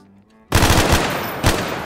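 An AK assault rifle in Garry's Mod breaks a brief silence with a sudden loud burst of rapid automatic fire that rattles on for over a second.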